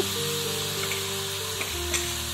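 Veto greens being stirred in a pan, a steady sizzle running throughout with a few soft scraping strokes from the spoon, close and moderately loud, with no voices.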